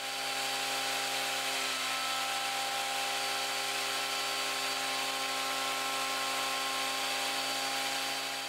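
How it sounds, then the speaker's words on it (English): Rough bandsawn wood boards fed through a thicknesser, a steady loud machine whine with strong tonal hum holding level throughout, no talking. "I'm just going to run them through the thicknesser and clean them up."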